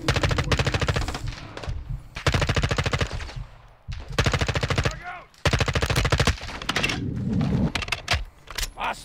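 Rapid automatic gunfire from the Call of Duty: Modern Warfare II campaign, loud dense bursts of shots in several long volleys separated by short pauses, with faint voices talking briefly between them.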